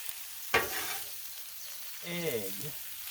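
A spatula scrapes and stirs Cajun fried rice on a hot Blackstone griddle: a sharp metallic scrape, a soft steady sizzle, then a longer scraping pass, all fairly quiet and close.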